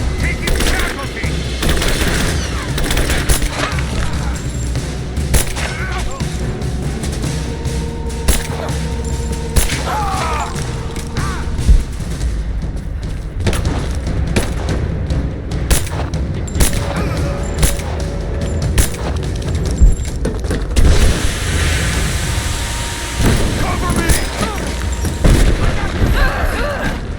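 Gunfire in the Rise of the Tomb Raider game: repeated loud gunshots and booming blasts in irregular bursts over an ongoing combat din, with voices shouting between shots.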